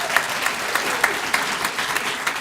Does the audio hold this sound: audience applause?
yes